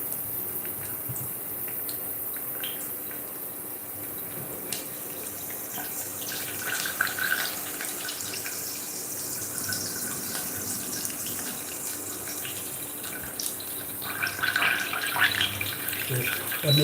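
Vegetables being rinsed under a running kitchen tap while cooking green pepper sauce, a steady gush of water into a sink with splashes and clatter rising near the end, close and moderately loud.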